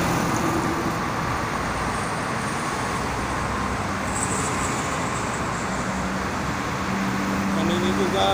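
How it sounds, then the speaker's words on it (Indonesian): Heavy holiday traffic on the Jakarta-Cikampek toll road at Karawang gives a dense, continuous roar of cars, buses and trucks, loud and unbroken, with nearby vehicles swelling through. "volume kendaraan dari pagi tadi sangat penuh sekali yang melintasi tol Karawang ini"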